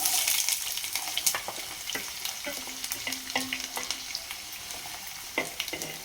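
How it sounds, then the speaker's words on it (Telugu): Onions frying in hot oil in a pan, a continuous close sizzle with scraping stirs and irregular crackles, moderately loud and with no one talking. "ఆయిల్ వీటెక్కాక ఉల్లిపాయలు వేసేసుకుందాం."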